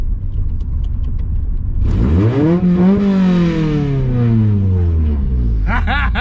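A car with a swapped Honda H22 engine and no exhaust fitted revs up and climbs in pitch, then winds down, loud and close with a raw, unmuffled drone; a brief rev returns at the end.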